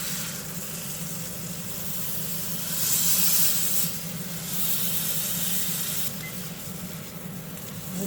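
Chuck roast searing in a hot pan after being flipped, a steady loud sizzle and hiss that swells briefly midway and continues without pause.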